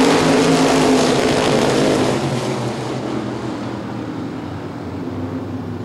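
Modified race cars at a green-flag start in an ICAR Top Speed Modified Tour race at Baer Field roar together in a loud, dense wash of engine noise that slowly fades as the pack pulls away.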